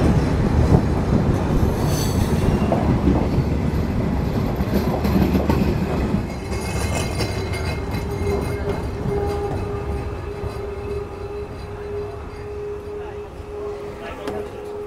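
Down Simanta Express from Chilahati bound for Khulna pulling into Ishwardi Junction at night, a loud continuous rumble of wagons with clattering wheels and a sustained squeal, gradually easing, voices faintly audible beneath.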